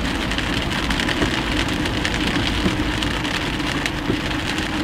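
Steady rain pours down around a gas station, a dense, even hiss of drops hitting pavement and surfaces that carries on without a break, close and fairly loud, with no voices.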